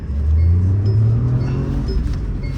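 A Mahindra XUV 3XO pulls hard from first gear, its engine note loud and close, rising in a steady surge of revs with strong low rumble throughout.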